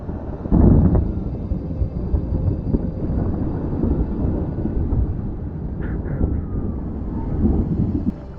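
Deep, rolling thunder from a lightning storm rumbles continuously, with a sharper loud crack near the start, then a long low grumble that carries on for several seconds outdoors on the water.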